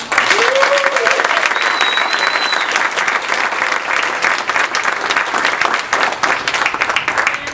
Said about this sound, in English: please give me a round of applause so they can hear me